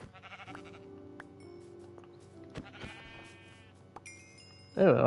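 Soft bleating from sheep in Minecraft, a few short wavering calls over a quiet synthetic backdrop, ending in a sudden louder burst of sound.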